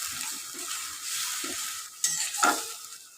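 A coriander, cumin, chili and black pepper paste fries with onion in a pan for a mango chicken dish. A low sizzle runs underneath while spoon stirs and scrapes come in short bursts, growing sharper near the end.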